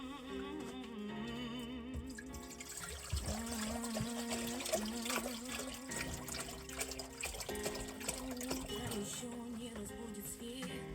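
Water trickles and splashes steadily for a shower inside a converted camper van, running continuously with a faint background hum and no speech.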